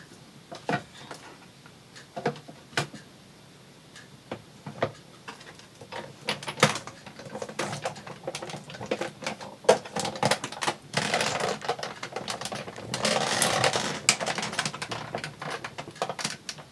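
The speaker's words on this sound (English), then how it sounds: "Using my Big Shot. Just have to crank it." A Big Shot die-cutting machine is hand-cranked, giving close irregular clicks and ratcheting knocks that grow busier and louder toward the end.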